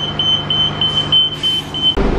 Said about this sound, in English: And our bus is here.